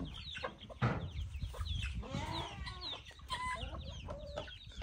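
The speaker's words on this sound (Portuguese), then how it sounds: "Tratando as galinhas." Farm chickens on a rural smallholding being fed in the morning, clucking and squawking in overlapping bursts close by, with varied rising calls over a constant low background murmur.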